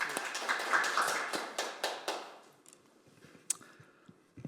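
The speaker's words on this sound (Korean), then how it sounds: "박수로 저희 소장님 박수로 맞아드리겠습니다." A small audience at a talk gives brief, scattered applause to welcome a speaker, a few loud claps at first that quickly fade to sparse taps and quiet room noise.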